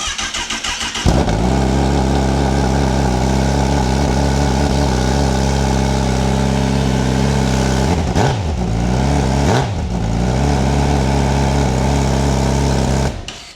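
A 2025 Honda CB1000SP motorcycle engine cranks and fires up, then settles into a loud, steady racy idle indoors, with two sharp throttle blips near the end, close and alone.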